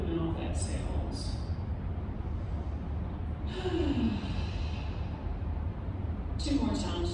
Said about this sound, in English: Let's inhale through our nose and take a couple of open mouth exhales.